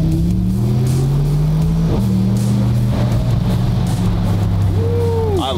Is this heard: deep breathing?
no